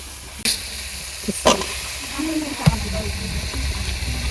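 Flat beans and potatoes sizzle with spices in a pan, a soft steady frying hiss broken by a few sharp clatters of utensils near the start and a brief scrape later.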